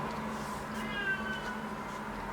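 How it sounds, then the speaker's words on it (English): A cat meows quietly in a soft, drawn-out call, faint against a low, steady room background with no talking. "Cat's meowing."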